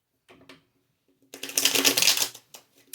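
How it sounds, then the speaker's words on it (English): A few soft tarot card taps, then a dense burst of rapid riffling as the tarot deck is shuffled, ending with a light tap. "I'm going to go ahead and shuffle the cards."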